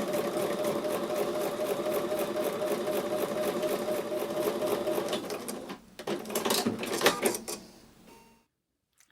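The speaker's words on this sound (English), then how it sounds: "I'm going to go back over to the sewing machine and sew with a 1/4 inch seam." A sewing machine runs steadily, stitching a quarter-inch seam while piecing a quilt block, its dense rapid whirr continuing close by before stopping abruptly near the end.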